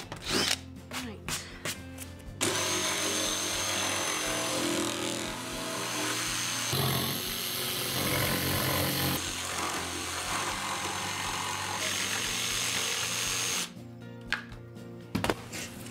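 A power saw cuts through a clamped piece of wood for a Valentine's Day wreath, a steady loud buzzing cut running for about eleven seconds, with short bursts of tool noise and clattering before and after.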